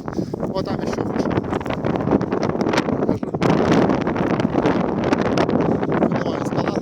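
Strong winter wind buffets a rocky hilltop in Belgorod, roaring in loud continuous gusts that batter the microphone, with no clear voices through the rumbling blast.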